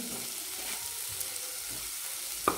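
Turmeric and garam masala sautéing in oil for a brinjal and potato bhaji, giving a faint, even sizzle up close, a light clink near the end, and no voices.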